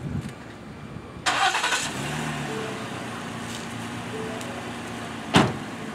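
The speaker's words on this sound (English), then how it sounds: "So I'm going to start my car." A car engine cranks and catches with a loud burst, then settles into a steady idle, with a sharp knock near the end and no voices.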